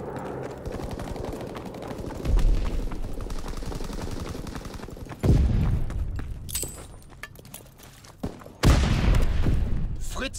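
Gunfire from an aircraft strafing run in the Call of Duty WWII team deathmatch at Sainte Marie du Mont, with three loud bursts of shots and booms over a steady rattle of battle noise and a voice.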